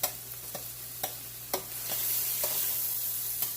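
Minced garlic sizzles in a hot skillet, a steady close frying hiss with several sharp clicks of a utensil stirring against the pan.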